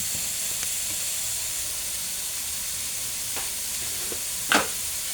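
Eggs and tomato frying in a pan give a steady loud sizzle and hiss throughout, with a few brief scrapes and one sharper clatter near the end.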